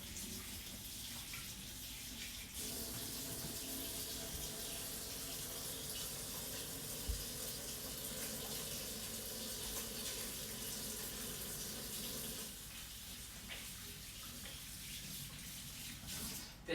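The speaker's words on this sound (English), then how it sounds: "So first I'm going to just wash my hands." Kitchen tap running steadily at close range as hands are washed before baking, a continuous splashing stream that quietens briefly near the end, with no talk over it.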